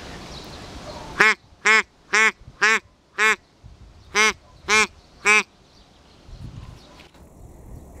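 Ducks quack in reply to duck calls out on a hunt, sounding as eight loud, evenly spaced nasal quacks in two groups, close and clear, with no talking.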